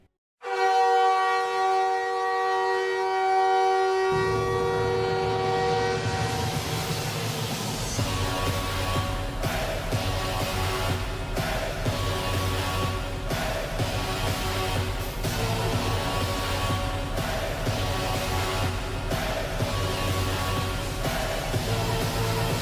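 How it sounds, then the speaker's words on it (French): The Montreal Canadiens NHL goal horn blares a loud, high-pitched, car-horn-like tone for a few seconds, then loud goal music takes over and plays on for the rest of the stretch. "La sirène de but, on est d'accord, c'est peut-être pas la plus agréable à entendre, c'est très aigu, on dirait un klaxon de voiture"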